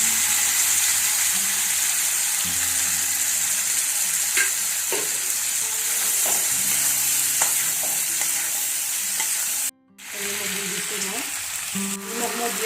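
Chickpeas get stirred into potatoes frying in a pan, giving a steady close sizzle with scraping stir strokes throughout and a brief break near the end before the frying resumes.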